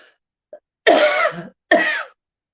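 A person coughs and clears their throat: a faint short hack, then two rough, raspy bursts close to the mic with silence between.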